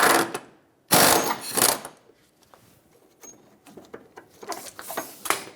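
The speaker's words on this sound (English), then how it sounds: "you need a 24mm socket to remove this huge stud that goes through the top of the" A socket wrench works loose a large stud at the top of a rear shock absorber on a 2013-2018 Hyundai Santa Fe, giving close bursts of rapid ratcheting clicks separated by short pauses.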